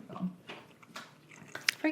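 Crunchy bites into a light but dense spiced Costco gingerbread cookie from a gingerbread mansion kit, a few short, sharp crunches close to the mic with chewing and voices around them.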